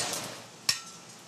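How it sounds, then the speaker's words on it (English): A single sharp metallic clink of a small blacksmith's hammer striking hot metal, brief and fairly faint, over a quiet hiss of workshop background. "She's having to use a smaller hammer than everybody else."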